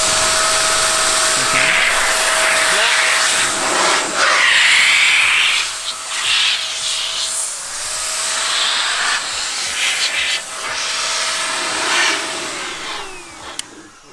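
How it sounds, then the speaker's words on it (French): A car blower dryer pushes a powerful, steady rushing hiss of air to blast water off a Peugeot 205 GTI, loud and close, with the airflow surging and shifting as the nozzle moves. "C'est sèche-cheveux pour la voiture."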